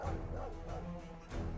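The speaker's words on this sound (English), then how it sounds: "Dog seen me." A dog in the video game Stoneshard barks a few short, muffled times over a steady low game background, with no talking.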